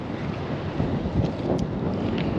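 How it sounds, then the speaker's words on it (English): Strong gusts buffet an outdoor microphone near the Texas–New Mexico border, giving a continuous low rumbling roar with uneven thumps that fill the whole short stretch. "I apologize if it's really windy"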